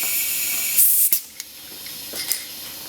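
Pressurized air hissing during a turbo boost leak test at 25 psi on a 750 hp BMW, a loud broadband spray fading into softer hiss with brief bursts and faint clicks.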